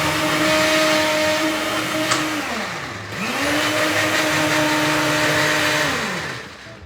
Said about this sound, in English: I'm just going to blend this up.